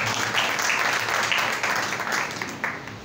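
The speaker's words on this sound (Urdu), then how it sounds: "ذرا زوردار تالیاں خداوند کے لیے بجائیں۔" A church congregation claps and applauds loudly and steadily for about three seconds, a dense patter of many hands filling the room.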